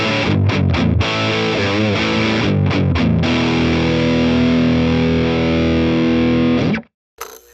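Heavily saturated electric guitar through a YERASOV 5000 Volt mini distortion pedal at high gain, with a fuzzy, loose low end; choppy riffing gives way to long sustained chords, loud throughout, then a sudden stop and brief noise.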